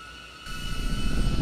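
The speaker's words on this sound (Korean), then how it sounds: "드론 바람에 물건들이 잘 떨어진다." A drone flies overhead on an outdoor film shoot, its steady rotor whir swelling into a loud, close, broadband rush after a quieter start, with no voices.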